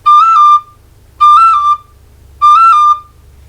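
Tin whistle playing three loud, clear, evenly spaced high notes, each decorated with a quick roll ornament that flicks briefly upward before settling back, separated by short silences.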